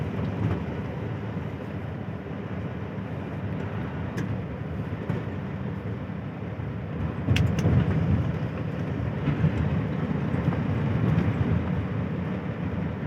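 A Hino 700 series E13C truck drives steadily with a continuous low engine drone and road rumble, rising slightly louder partway through, with no talk.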